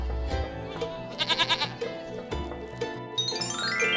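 A goat bleats in a wavering, quavering cry partway through, set against light cartoon-style background music in a folk tale where a merchant gives a goat to a Brahmin as an offering.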